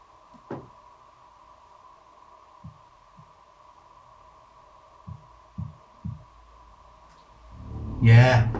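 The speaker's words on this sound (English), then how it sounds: "That was 3 knocks." Three to several dull knocks sound at intervals during a haunting investigation, faint to moderate against a steady electrical hum, followed by a louder rustle or thump at the end.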